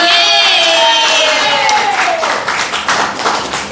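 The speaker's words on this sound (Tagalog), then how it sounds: "Sigaw ang palakpak para kay Ate Malu." A crowd at a Christmas party claps and cheers loudly, with a high whistle-like shout at the start, then a dense patter of applause continuing to the end.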